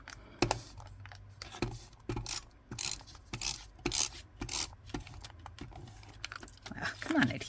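An adhesive tape roller near the end of its roll dispenses in short, uneven rasping bursts with clicks and scrapes, heard close up while a person talks now and then.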